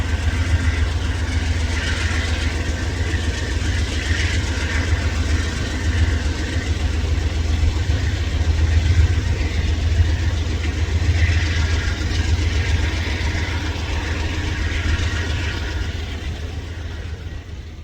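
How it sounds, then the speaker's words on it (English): A BNSF intermodal freight train rolling past with 40-foot containers on the head end, a continuous low rumble and rail noise holding steady throughout, swelling slightly midway and easing off toward the end. "Random BNSF intermodal."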